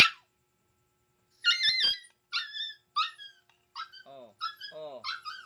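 An unfed dog whining impatiently in a string of short, high yelps and squeaky whimpers, some falling in pitch, heard close and alone between brief silences.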